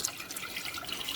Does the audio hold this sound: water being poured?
yes